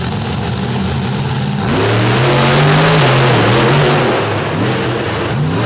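A modified race car, the TMS Signature Series Chassis Illuminator, launches hard at a dirt track show in DuQuoin, Illinois. The engine idles loudly, then revs up sharply and climbs through rising gear pitches as the car pulls away.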